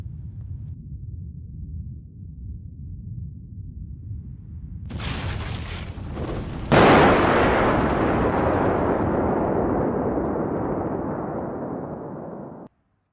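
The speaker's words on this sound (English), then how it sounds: "a thunderous explosion was heard when steel container number 14 tore through the complex" A steel storage container at a nuclear waste complex blasts apart in a huge explosion: a low rumble builds, then a sudden loud boom gives way to a long, dense roar that slowly fades, with no voices.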